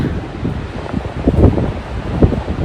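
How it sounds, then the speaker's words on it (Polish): Steady wind buffets the microphone, a low broadband rumble with gusty swells, no voices. "Padał deszcz, zimno, wiatr wieje."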